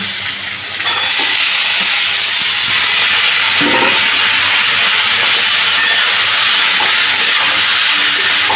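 Sliced potato and pointed gourd fry in a pan with a steady, loud sizzle and hiss, broken now and then by the scrape of stirring, with no voices.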